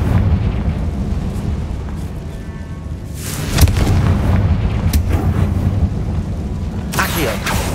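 A Confringo blasting spell explodes inside a tomb in Hogwarts Legacy, a sharp burst near the middle over a steady rumbling game backdrop, followed by another crackling blast toward the end.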